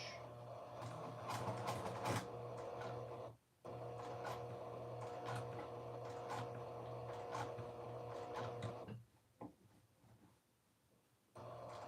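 A sewing machine edge stitches a dress pocket, running in steady humming bursts with brief pauses between them, close and fairly quiet.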